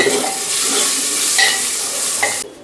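Onion and chili sizzle loudly and steadily in hot oil, with occasional stirring clinks, before the sound cuts off abruptly.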